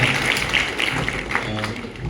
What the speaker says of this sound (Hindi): तो आप सबके लिए एक बार ज़ोरदार ताली बजाएं